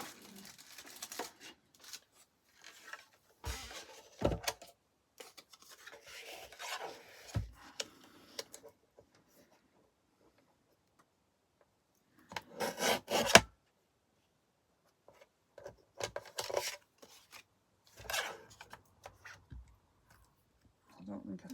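Paper being trimmed by hand for a handmade dark Alice folio, giving short bursts of rasping, rubbing cuts separated by pauses, close and moderately loud, with no talk over it.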